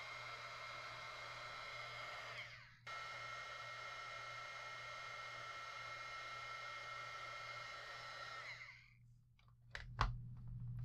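Heat embossing tool blowing hot air to set embossing powder on a mould, a quiet steady fan whir with a brief dip, then switching off into faint clicks.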